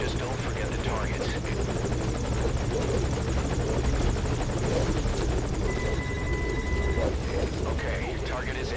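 A hovering helicopter in Metal Gear Solid Ground Zeroes keeps up a dense, even rotor beat and engine hum nearby, while someone talks over it and brief electronic tones chime.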